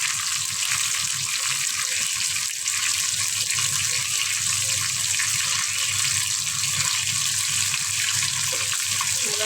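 Tap water runs in a steady, loud hiss without a break in a home kitchen while tilapia fish curry is cooked.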